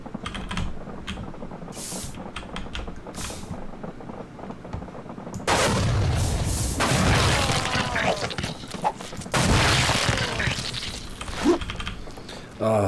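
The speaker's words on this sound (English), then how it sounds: "Explosions work." Bursts of explosions and gunfire from an unreleased MPN (Madness) video game development build, dense and loud in two stretches, with light keyboard clicking in the quieter opening.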